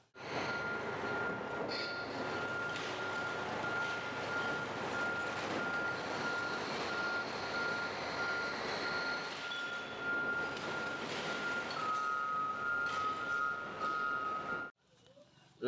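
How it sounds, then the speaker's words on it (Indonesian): Reversing beeps from a toy garbage truck sound as a steady, evenly spaced electronic tone over a mechanical whirr, running close and loud for about fifteen seconds before stopping abruptly. "ada truk pengangkut sampah teman-teman"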